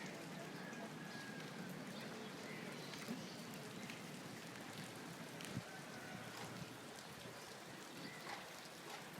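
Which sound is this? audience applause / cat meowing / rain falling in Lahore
rain falling in Lahore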